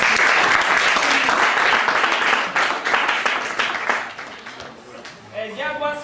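Students in a Kenyan eighth-grade classroom burst into loud, sustained group clapping for about five seconds, the applause thinning out near the end as a voice begins speaking.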